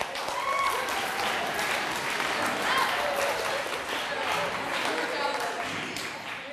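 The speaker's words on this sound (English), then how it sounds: "Now, everybody give those leaders that just stood up a round of applause" A roomful of student leaders at a National Honor Society leadership training claps in a steady round of applause, moderately loud and continuous, with some voices mixed in.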